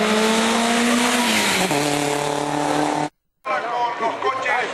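Touring race cars roar past at an exhibition event, with loud engine tones rising and falling and brief tire squeal, followed by a sudden cut and more engine noise.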